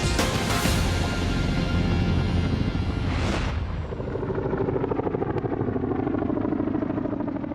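A Chinook helicopter flying with an Apache escort toward Sangin in Helmand Province, Afghanistan, a loud steady rotor roar with heavy low thudding and a swelling whoosh midway, constant throughout.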